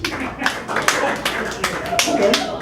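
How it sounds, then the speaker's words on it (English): Scattered clapping from a small crowd, a few seconds of uneven applause mixed with voices talking. "Round of applause."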